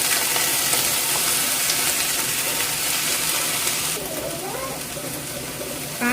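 Cut beans go into a pan of sautéed onions already frying, giving a loud steady sizzle with some clattering. The sizzle thins out a little partway through.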